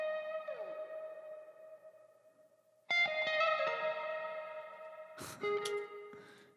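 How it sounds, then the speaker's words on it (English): Clean electric guitar with light drive crunch and a wash of spacious reverb, tuned for a modern RnB neo soul tone, playing sustained chords and single notes that ring out and decay into the echo, with a few sharper plucked accents. "It's kind of clean, but it's got some crunch to it."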